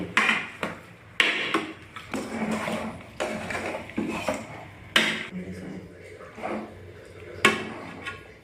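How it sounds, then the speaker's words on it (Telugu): A spoon scrapes and clanks in a cooking pot as chicken is stirred through masala for a homemade chicken curry, with irregular metallic knocks and clatter over someone talking in the background. "చికెన్కి మసాలా అంతా పట్టేలాగా మిక్స్ చేసుకోవాలి."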